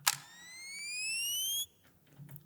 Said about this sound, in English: I found a bunch of really cool like camera flash risers